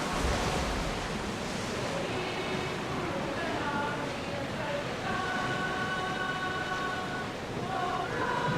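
Ocean waves in Assassin's Creed Odyssey wash steadily as a broad, continuous surf roar, with faint game music tones and occasional voices beneath.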